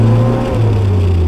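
A car engine hums steadily in gear while pulling up a slight grade without the clutch, a loud, low, sustained drone with a small shift in pitch midway.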